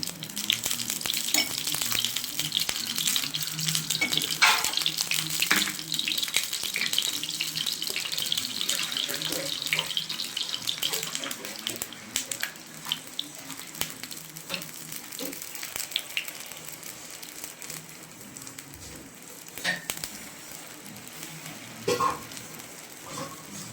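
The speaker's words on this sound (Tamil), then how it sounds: "நம்ம கருப்பு கவுனி பணியாரம் ஊற்ற போகிறோம். நல்லெண்ணெய் ஊற்றிக்கோங்க." Black kavuni rice paniyaram batter fries in cold-pressed sesame oil with a steady sizzle and crackle, broken by clinks, scraping and stirring and an occasional splash of running water, over about twenty seconds.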